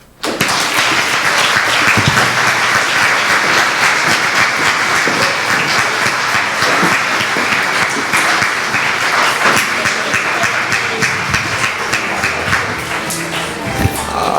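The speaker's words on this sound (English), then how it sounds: "One more round of applause" Audience applause at an African American conference, a loud, steady wash of many hands clapping that fills the whole stretch without letting up.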